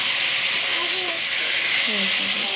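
Eggplant fries in hot oil in a pan, a steady close sizzling hiss that runs throughout, with a voice talking faintly over it.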